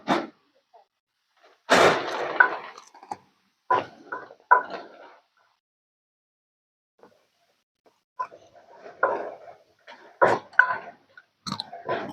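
Chewing at lunch on a meal of grilled pork and chili-eggplant dip comes in scattered bursts, with brief munching sounds close to the microphone separated by quiet pauses.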